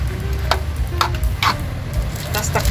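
Vegetables for chop suey with chicken and liver being stirred in a pan, with a few sharp utensil scrapes and clinks spaced about half a second apart over a low, steady background hum.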